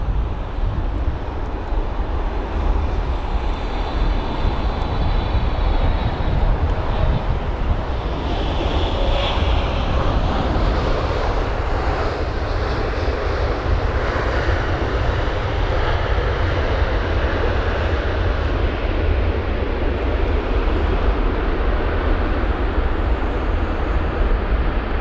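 An American Airlines Boeing 777-300ER arriving at London Heathrow from Los Angeles makes a steady, loud, broadband engine roar that fills the whole stretch, shifting slowly in tone as it passes, with wind buffeting the microphone.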